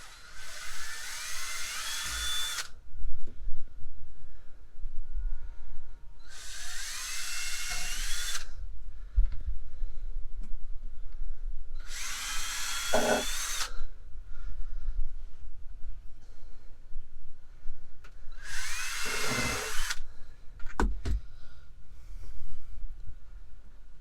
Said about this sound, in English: pre-drill our holes, put our screws in.